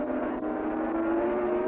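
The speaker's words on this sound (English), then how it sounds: "McIlnay on his big Suzuki, and now is riding the 500 here" A 500 Suzuki racing motorcycle screams past at a 1983 road race, a loud, sustained high-revving engine whine with steadily rising pitch, close and continuous.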